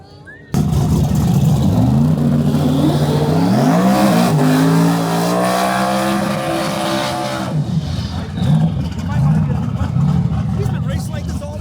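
A Honda race car roars past at a US41 drag-racing event, its engine revving hard and climbing in pitch through the gears before easing off. Loud and close, with people talking over the noise.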